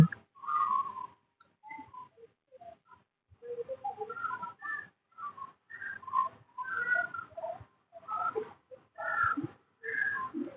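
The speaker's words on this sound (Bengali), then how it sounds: "পাখি ডাক শোনা যায়" Birds call in a village garden at a peaceful rural retreat, giving repeated clear whistling chirps and short phrases in bursts, near and fairly loud, with brief quiet gaps between calls and no talking.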